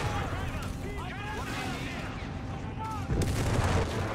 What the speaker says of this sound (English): The anti-tank gun has zeroed in on my location.